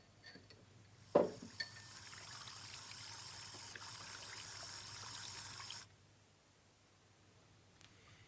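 Water poured from a tap or jug into a glass in a kitchen, opening with a clink of glass, then a steady close pour for about five seconds that stops abruptly, with a faint clink afterward.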